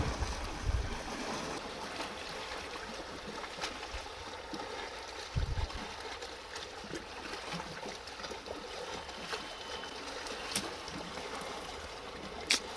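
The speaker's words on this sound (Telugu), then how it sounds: "అలలు మాత్రం సముద్రంలో అలలు వచ్చినట్టే వస్తున్నాయి." Waves wash along the Krishna river at a camping and fishing spot, a steady rippling and lapping of water with a few soft thumps scattered through.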